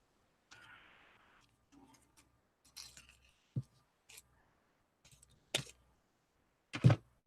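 Scissors cutting small paper flowers for a craft album: a scattering of faint, sharp snips and clicks spaced irregularly, with soft handling noise between them in a quiet room.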